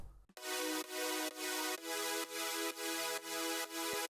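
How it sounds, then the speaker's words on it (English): A bright, buzzy sawtooth synth layer from a progressive house track plays sustained chords in a steady pulsing rhythm, loud and upfront with no voices. "I needed something with a bit more edge, so I added this saw synth on top."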